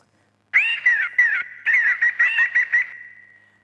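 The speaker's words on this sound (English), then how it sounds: "That is the call of the laughing thrush." A laughing thrush from the Western Ghats gives a clear, close run of melodic whistled phrases, rising and falling in rapid bursts over about two seconds before a sustained note fades out.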